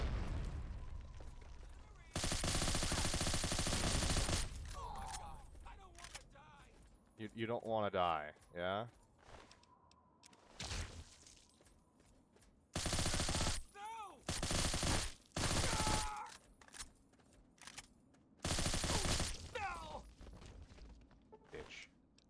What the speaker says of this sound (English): come into some place and you hear detonations